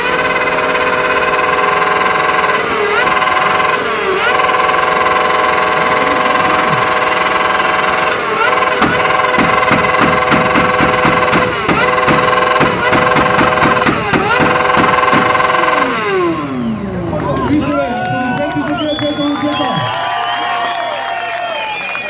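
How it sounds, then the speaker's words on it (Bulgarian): Two motorcycle engines roar and rev together over a noisy crowd at a loudest-motorcycle contest, then cut off, leaving a lower idle and scattered background noise. "може ли последно да запалите двата мотора заедно и след като пофорцирате много малко кратко време"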